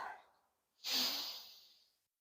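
A single strong exhale during a yoga warrior 3 deadlift exercise, a breathy rush of air lasting about a second and a quarter that fades out, heard close and alone after a faint earlier breath.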